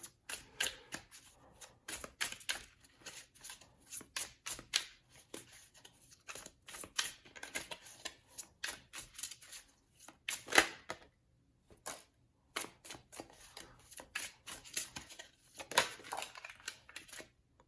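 Tarot cards are handled and shuffled up close, quiet bursts of riffling and slapping card noise repeating in irregular clusters with short pauses between them.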